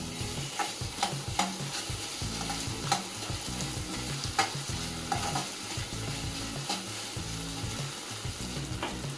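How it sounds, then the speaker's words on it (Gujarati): Pizza sauce being stirred into a leftover-rice idli filling in a hot pan, a steady sizzle with repeated scraping clicks from the spoon, close and fairly loud, no talking. "પિઝા સોસ નાખીશું. અને મિક્સ કરી લઈશું."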